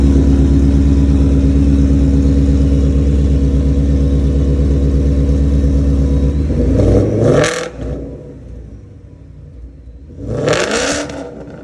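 Car with long tube headers, an off-road X pipe, resonators and a Roush axle-back exhaust, loud throaty idle rumble close by, then two sharp revs rising and falling with a quieter pause between.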